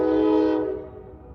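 A train horn blasts loud and close as a train passes on a morning drive into Gettysburg, a steady harmonic blare that holds for about half a second before fading into rumbling rail noise.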